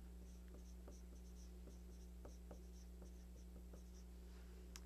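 Pen or marker writing notes during a lecture on carbohydrate metabolism, a faint run of irregular scratchy strokes and taps over a steady low electrical hum, with no talking.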